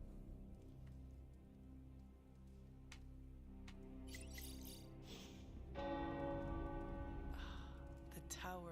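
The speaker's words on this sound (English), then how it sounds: "The tower bells are ringing." Church bells ring out with sustained, overlapping tones over a steady hiss like rain, the peals swelling louder midway through.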